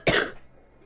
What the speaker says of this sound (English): I've been coughing and blowing my nose in every single session for the past week now.